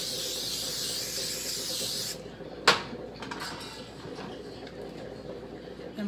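A steady hiss of oil spray onto a hot griddle runs for about two seconds, then stops, followed by a sharp click and quieter background sizzle.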